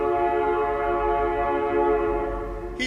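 A train approaches along the tracks in an old adventure drama, a sustained tonal horn or whistle blaring steadily over a low rumble, loud and continuous, with a brief sharp noise at the very end.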